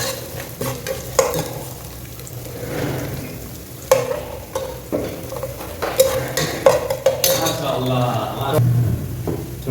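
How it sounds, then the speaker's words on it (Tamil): Curry leaves and garlic fry in a pan for a coconut fish head curry, giving a close, crackling sizzle with frequent clattering stirs of a spoon. A voice talks over the cooking. "கொஞ்சம் ஃப்ரை ஆகட்டும்."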